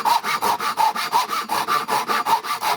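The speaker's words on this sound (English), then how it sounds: "Listen to the sound change here." A Japanese pull saw cuts through wood in fast, even rasping strokes, about four per second, close and loud with no talking.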